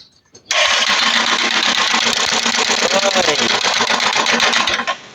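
A Kawasaki Rouser 135 motorcycle engine with a broken cam bearing runs loudly and steadily at idle, its dense, rattly mechanical knocking continuous for several seconds before cutting off.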